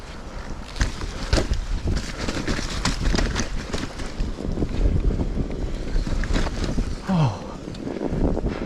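Wind gusts buffet the microphone on a snowy mountain bike trail at Cannock Chase, a steady rough roar with tyre and movement noise beneath and a brief voice near the end.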